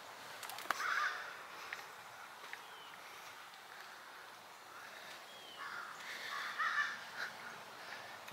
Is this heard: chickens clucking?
no